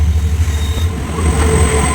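A train nearing a tunnel on a trekking route: a heavy, steady low rumble with faint high metallic whine, loud and continuous, no talk.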